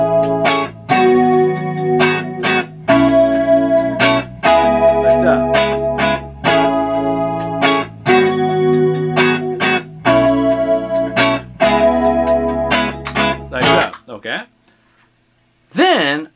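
Electric guitar played through the middle and front pickups with a little reverb, picking bright chordal phrases in bursts with short gaps. The playing breaks off near the end, then resumes briefly.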